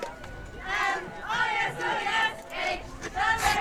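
Cheerleaders and a crowd cheer and shout in rhythmic bursts at a high school football game between the Red Devils and Marfa, loud and close from the Marfa side of the stands.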